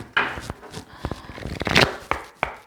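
Tarot cards drawn and shuffled during a French card reading, giving soft, close papery slaps and rubs with a few sharp flicks, alone with no talk.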